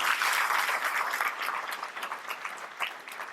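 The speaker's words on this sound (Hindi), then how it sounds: "खुद के लिए जोरदार तालियां बजाइएगा।" A young audience at a lecture on Rajasthan's history applauds, a full crowd of clapping heard from a slight distance, steady at first and thinning into scattered claps toward the end.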